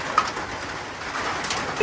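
Pigeons coo softly on a rooftop during a heavy rainstorm, their low calls half buried under a steady hiss of falling rain that fills the whole clip.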